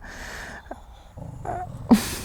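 Two dogs squabble over a beef nose chew, giving short, low growls and whimpering snarls close by, with brief pauses between the quiet bursts.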